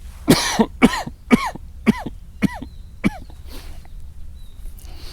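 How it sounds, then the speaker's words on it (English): A series of about six or seven harsh coughs at regular intervals, close and fairly loud, trailing off into quiet. "Sorry, I need to cough."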